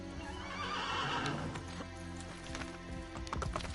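A horse whinnies loudly in a rising, wavering neigh in the video game Assassin's Creed: The Ezio Collection, followed by quick hoof clip-clops and clatter.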